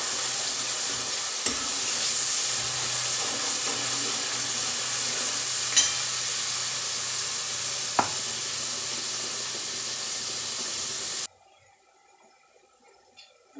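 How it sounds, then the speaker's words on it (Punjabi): Masala spices roasting in a pan for tiri kadhi pakora give a steady, close sizzle and hiss with a few sharp spoon scrapes, then cut off into near silence toward the end. "ਮਸਾਲੇ ਨੂੰ ਆਪਾਂ ਚੰਗੀ ਤਰ੍ਹਾਂ ਭੁੰਨ ਲੈਣੇ"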